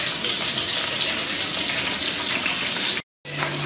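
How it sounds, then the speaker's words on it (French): Onions sizzle and fry in a pan on a wood-burning cookstove at around 180–200 degrees, a steady hiss that cuts out briefly near the end before resuming. "Là, tu fais rissoler les oignons."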